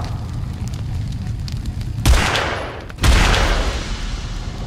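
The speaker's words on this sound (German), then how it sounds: "There's a fire extinguisher on the other side. I'll try shooting it." A fire extinguisher shot in the video game KURSK, heard as two loud bursts about a second apart, each a sharp blast trailing into a roaring gush of spray over a steady background rumble.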